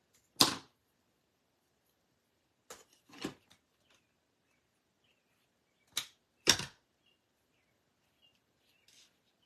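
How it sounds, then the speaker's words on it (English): Scissors snipping paper for a handmade card, a few short, crisp cuts in small clusters separated by quiet pauses, close and fairly soft. "so I'm going to snip off a little bit more."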